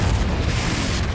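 The Confringo explosion spell in the Hogwarts Legacy video game lands as a loud, dense, rumbling blast that fills the whole short moment with broadband noise.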